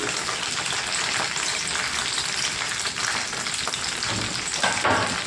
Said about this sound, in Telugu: పచ్చిమిర్చి వేగాలండి బాగానే.